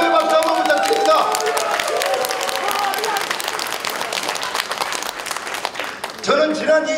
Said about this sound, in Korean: 여러분 격려의 박수 한번 부탁드립니다